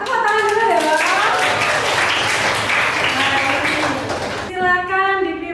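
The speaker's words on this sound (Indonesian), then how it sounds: "Tepuk tangan dulu ya Bapak." A school class claps hands together in a classroom, brief energetic clapping mixed with children's sung or chanted voices that rise above it at the start and end.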